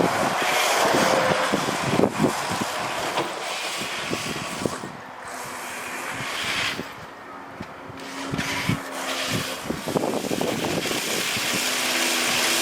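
A 1979 Ford Bronco drives with all four wheels locked, its engine and drivetrain rumbling loudly and steadily under heavy wind buffeting and rattles, with short dips and revs along the way.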